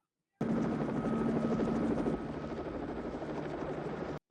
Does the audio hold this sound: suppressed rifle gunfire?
no